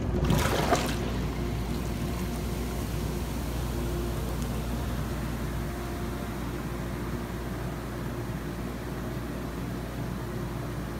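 Jetted tub water churning and bubbling with a ghost-themed bath bomb dissolving, a steady close rush of fizzing and trickling that holds constant throughout, after a brief louder splash at the start.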